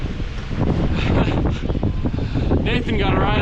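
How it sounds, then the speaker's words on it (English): Gusty wind on a mountain bike route in Ecuador buffets the microphone with loud rushing bursts, rising and falling, with a brief voice in the background. "Well, it's pretty windy."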